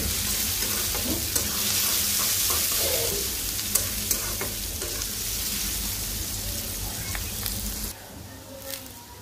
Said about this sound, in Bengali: তো শিং মাছ রান্নার জন্য পেঁয়াজ আর তেল দিলাম। শিং মাছ রেডি করে নিছি। তো পেঁয়াজটা ভালো করে ভাজবো।